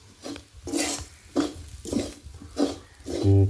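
Beef fry being stirred with chili powder, coriander powder and fennel seeds in a pan, a repeated scraping, rasping stroke about every half second, close and fairly quiet with no voices.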